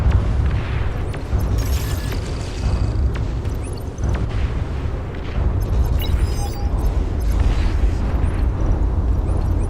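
Explosion of an enemy commander unit being destroyed in a sixteen-player strategy video game, a dense rumbling boom with sustained low-end roar and crackling bursts throughout, loud and continuous.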